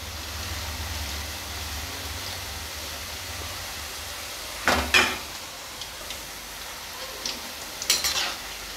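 Namak pare fry in hot oil with a soft, steady sizzle while being stirred continuously, with a few brief scraping clinks of the spoon against the pan near the middle and end.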